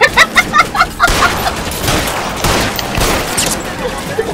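Gunfire in the video game L.A. Noire: a quick rhythmic burst of five or six sharp shots, then a dense, sustained fusillade of overlapping reports and booms rolling on for several seconds, loud and close.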